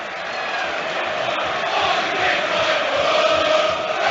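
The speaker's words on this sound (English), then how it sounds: "the home fans cheer as one" Home supporters at a Premier League football match between Nottingham Forest and Leeds United roar together in a sustained, dense crowd cheer that swells steadily and holds for several seconds.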